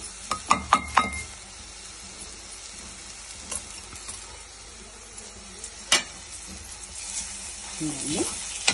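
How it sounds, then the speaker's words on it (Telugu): Garam masala, cumin and coriander powder fry in an oiled pan with a continuous hiss, opening with a few sharp clinks of a spoon on metal and later scraping stirs. "ఇప్పుడు ఈ మసాలా అంతా దగ్గరగా బాగా ఫ్రై అయిన వరకు మనం ఫ్రై చేయాలి మసాలాని"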